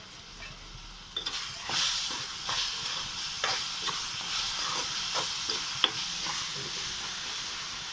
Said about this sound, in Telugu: ఇప్పుడు ఈ పేస్ట్ వేసి వేయించుకోవాలి.